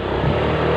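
Honda Vario 150 scooter engine held at a steady, loud rev under throttle, a continuous close drone with no speech over it.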